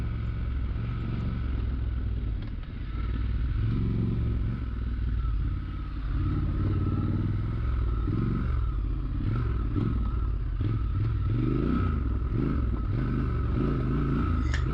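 A Triumph Scrambler 1200 and a Yamaha Tenere 700 ride a dirt trail, their engines droning steadily nearby alongside gravelly clatter and scraping over rough ground.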